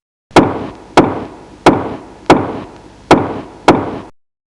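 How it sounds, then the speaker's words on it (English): Six heavy, loud bangs on a door at a steady, even pace, each ringing out briefly before the next. "Teacher Li forcefully pounded on the door, the loud bangs making my heart race."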